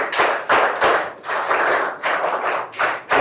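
At a meeting with Adivasi women in Rampachodavaram, a crowd claps to congratulate a rank winner. The applause comes in several loud, rhythmic bursts with short pauses between them.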